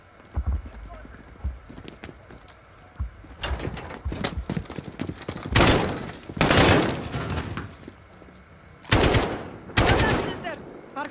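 Bursts of AK-47 gunfire ring out in the video game Modern Warfare, several loud rapid volleys separated by quieter gaps, with voices talking at times between the shots.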